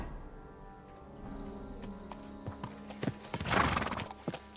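Horse hooves clip-clop at a steady riding gait through woods in Kingdom Come: Deliverance II, with a horse's whinny rising near the end; moderately loud and close, no talking.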